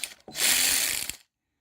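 A ratchet spins off T45 bolts on an 08 Mercury Mariner in a garage, one continuous rapid clicking burst of about a second, loud and close, ending abruptly into silence.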